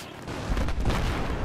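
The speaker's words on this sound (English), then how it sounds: "I'm not even holding the trigger and I'm firing." Rapid gunfire from a weapon in Battlefield 3, a short burst of dense, booming shots heard close and loud over roughly a second, with no voices.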